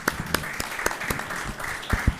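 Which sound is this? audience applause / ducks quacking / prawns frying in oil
audience applause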